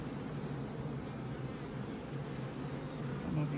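Honeybees buzz steadily around a hive, with a small swarm settled beneath a pollen trap. The drone is even and continuous and fills the whole stretch at a moderate level, with no talk.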